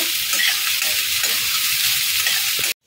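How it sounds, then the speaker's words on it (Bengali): Onions frying lightly in a pan for Bengali egg devil, a steady close hiss of sizzling oil with faint stirring scrapes that runs unbroken and cuts off abruptly near the end. "পেঁয়াজটাও হালকা করে আমি একটু ভেজে নেব।"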